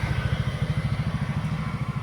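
A motorcycle engine idles close by at midnight while being worked on, thumping in a fast, steady low pulse with a light mechanical clatter.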